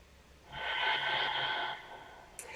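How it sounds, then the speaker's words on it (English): One long, deep audible breath taken during a vinyasa yoga flow, close and airy, swelling and fading over about a second, followed by a brief small click. "We take one more deep breath here."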